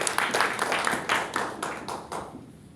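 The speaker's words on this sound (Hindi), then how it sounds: "एक बार जोरदार तालियां" A small audience at a company gathering claps in a short burst, a few hands slapping unevenly and fading out within a couple of seconds.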